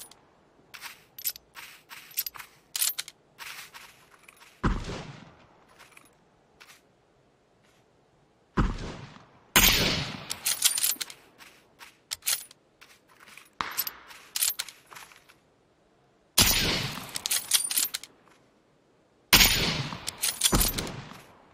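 Gunfire in the PUBG video game, sharp shots and rapid bursts scattered across the stretch, some clusters loud and close, others fainter single cracks between quieter moments, with no talking.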